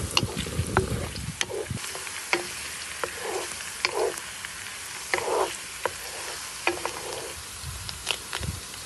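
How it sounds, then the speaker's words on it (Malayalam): Garlic and ginger sautéing in a pan for a buffalo heart fry, an ongoing sizzle punctuated by repeated spatula scrapes and taps in an uneven rhythm, close up with no voices. "വെളുത്തുള്ളിയും ഇഞ്ചിയും നന്നായിട്ട് ഒന്ന് ഒന്ന് വഴറ്റിയെടുക്കാം"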